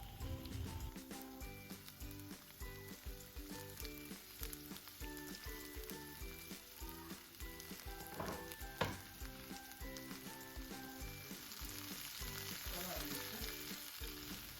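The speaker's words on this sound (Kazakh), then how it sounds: "Етіміз пісіп жатқан уақытта біздер майға болгар бұрышын қуырамыз" Bell pepper frying in oil in a pan for a warm meat salad, a steady close sizzle with occasional stirring clatter running throughout, no talking.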